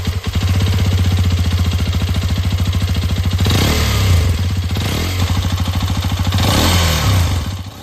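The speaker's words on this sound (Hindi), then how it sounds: "well, if you listen closely to the engine" A Hero Xpulse 210, a single-cylinder 210cc motorcycle, runs steadily close by with a throbbing exhaust beat. Two brief revs rise and fall over the low, even pulse, and no one speaks.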